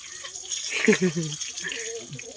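Plain tap water runs and splashes over parts being washed, an uneven close spatter that rises in the middle, with brief voices under it.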